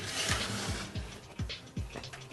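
A screwdriver turns out screws from a computer's CD-ROM drive, giving a close, quiet series of about five evenly spaced ratcheting clicks over faint background hiss.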